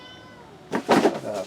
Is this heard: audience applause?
no